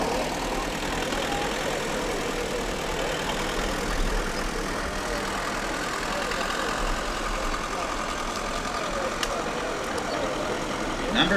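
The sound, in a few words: 1950 WD9 tractor engine running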